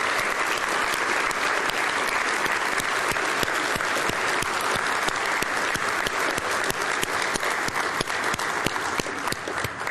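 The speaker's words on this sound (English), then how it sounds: "please give a huge round of applause for the folks that are making the dreams and hopes of this organization possible" Sustained applause from a large audience at a Heritage Foundation meeting, dense steady clapping holding at full strength for the whole stretch with no pause.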